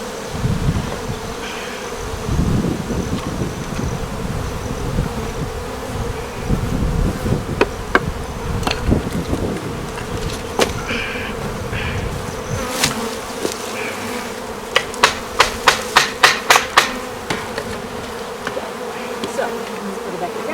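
Bees buzz in a dense, continuous drone during a hive inspection, loud and close, with a few sharp knocks and clicks near the end as the hive is handled.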